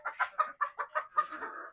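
Fayoumi hens on a poultry farm give a quick run of about seven sharp, rhythmic clucks, close and clear, ending in a drawn-out squawk.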